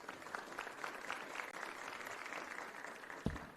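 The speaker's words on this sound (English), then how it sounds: "Can give that a round of applause." An audience at a learner leadership summit in Johannesburg claps steadily as a dense, distant wash of applause, fairly faint and even, with a brief thump near the end.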